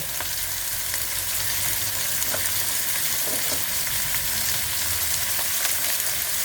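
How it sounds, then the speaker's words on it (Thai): Snow peas and scallops stir-fry in a hot pan, a constant loud sizzle with occasional scraping stirs and clinks. "ผัดแป๊บเดียวนะมันจะกรอบ"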